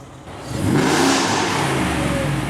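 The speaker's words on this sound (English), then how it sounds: "it's pretty loud when you rev it" A Whipple-supercharged Coyote V8 in a Ford F-150 King Ranch pickup, running on E85, revs up hard from idle, its loud exhaust swelling into a sustained roar held close by.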